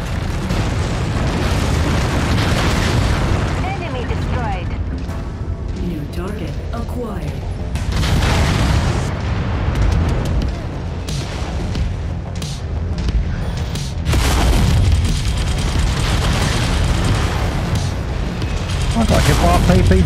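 Battle in the MechWarrior 5 mech combat game, with a Thunderbolt mech among the fighters: dense, continuous weapon fire and heavy booming explosions rolling through the whole stretch, loud and layered, with speech mixed in.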